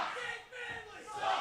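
A wrestling crowd roars and chants in a brief, loud swell of massed voices, rising again toward the end.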